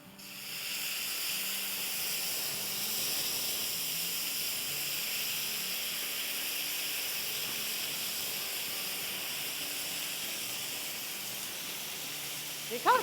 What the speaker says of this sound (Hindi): देखा कैसा ज़बरदस्त सा हमारा सिजलिंग दम केसी कबाब रेडी हो गए